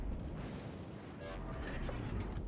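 Naval guns fire from a warship in World of Warships, a heavy continuous rumble with a deep boom swelling midway through.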